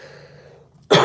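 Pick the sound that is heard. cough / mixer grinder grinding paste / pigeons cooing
cough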